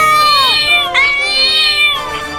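Several cartoon cats meow in loud, drawn-out, overlapping cries, rising and falling in pitch as they swarm to attack, with no talk over them.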